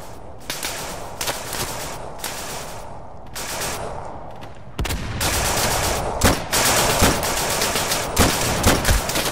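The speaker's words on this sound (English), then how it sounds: "Oh, someone's firing at me." Gunfire in the video game Day of Infamy during the Battle of the Bulge, scattered rifle shots early on, then rapid, close machine-gun bursts and sharp cracks growing louder and denser.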